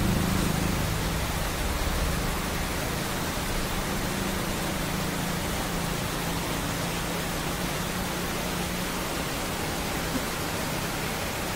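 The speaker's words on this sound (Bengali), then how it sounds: "পানির শব্দ শুনতে পাচ্ছেন আপনারা" Floodwater pours through an opened embankment block into a swollen river, a steady, loud broadband rush with no breaks, heard alone throughout.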